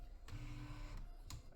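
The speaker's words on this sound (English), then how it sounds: "Such a joy to see such a small compact printer working" A tiny 1994 battery-powered compact printer runs its print mechanism with a whirring motor tone broken by sharp mechanical clicks, close and quiet.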